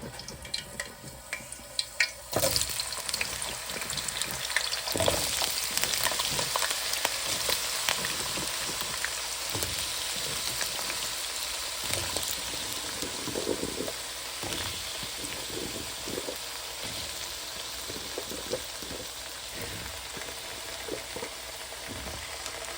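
Potatoes fry in a pan with a steady, close crackling sizzle that lasts throughout, broken by occasional knocks and stirring scrapes, and no one speaks.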